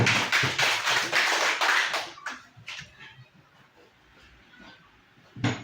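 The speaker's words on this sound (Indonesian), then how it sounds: "Tepuk tangan buat Ibu Eti." Applause for Ibu Eti in a teacher mentoring session: a dense burst of clapping for about two seconds that then thins into scattered claps and room noise, with one last loud clap near the end.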